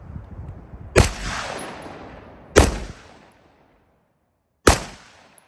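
An AR-15 rifle fires three single semi-automatic shots, each a sharp, loud, close crack with a trailing outdoor echo, spaced irregularly over a few seconds.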